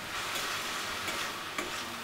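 Bottle gourd frying in a pan with a steady soft sizzle, while a few spoon clicks and scrapes mark the stirring, close and without talk.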